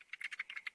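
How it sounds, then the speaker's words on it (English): Several quick clicks of keys pressed on a computer keyboard while editing a screenshot, about seven taps in an uneven, rapid rhythm, close and fairly quiet, with no voice. "I can even add like a text box by clicking the T key on my keyboard"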